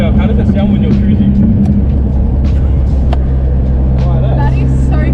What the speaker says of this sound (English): So without the dump valve, how does it sound when you're cruising?